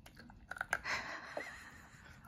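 Crunchy sour candy is chewed close by, with a few faint, quick crunching bites followed by softer mastication.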